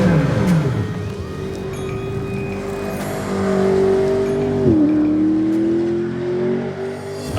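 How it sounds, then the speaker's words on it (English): McLaren 650S sports car exhaust roaring loudly and steadily, its pitch climbing, dipping sharply near the middle, then rising again as the engine revs on. "up here, the exhausts, which make one hell of a racket"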